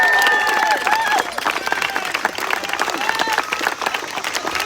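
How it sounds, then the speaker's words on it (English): A rally crowd in Loudoun County claps and cheers in a dense burst of applause, with voices calling out over the clapping as it carries on. "give yourself a round of applause"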